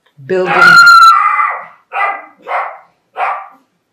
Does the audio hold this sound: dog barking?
yes